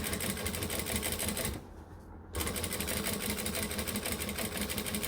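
A sewing machine runs a top stitch at stitch length 4 on a Donna bag project, a steady fast mechanical whir and chatter close by, pausing briefly for under a second before resuming at the same even pace.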